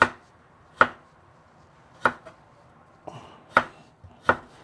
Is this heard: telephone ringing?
no